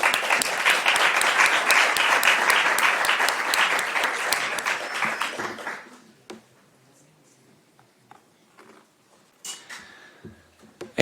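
A conference audience at a social enterprise funding event gives a loud, dense round of applause lasting about six seconds, then it breaks off abruptly, leaving a quiet room with a few scattered claps and small noises.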